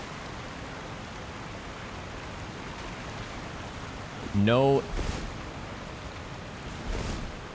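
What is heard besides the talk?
waterfall in the video game Elden Ring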